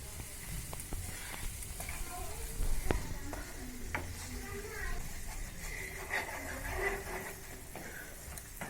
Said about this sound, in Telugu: ఇలా కలుపుతూ బాగా ఫ్రై చేసుకోవాలి.